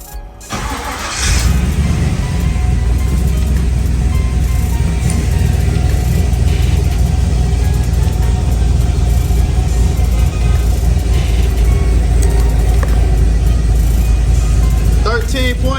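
An LS-swapped car is cranked: a brief starter whir catches into a loud, steady idle that rumbles close by for the rest of the recording, with a voice speaking over it.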